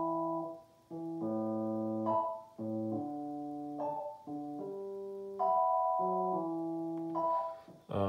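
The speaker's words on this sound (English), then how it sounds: "So about a year ago I came up with this on a real piano." A repetitive riff played on a real acoustic piano, close and clear, with sustained chords in a steady looping pattern and brief pauses between phrases, no talking.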